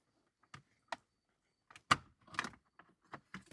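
A few sharp plastic clicks and snaps, close up and separated by short pauses, as a car's plastic cabin air filter door is unclipped and pulled free.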